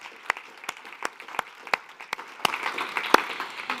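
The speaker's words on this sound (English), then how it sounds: "A big applause to all of them." Audience applause at a youth dialogue session on climate adaptation action. It starts as a few sparse, separate claps and builds into denser clapping over about four seconds, heard clearly and with no talking.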